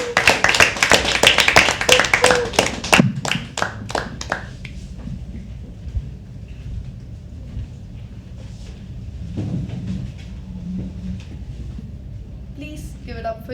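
Audience applause at a live poetry open mic at The Habitat, a dense burst of many hands clapping that thins out into scattered claps and fades within a few seconds, followed by quieter room noise with faint voices.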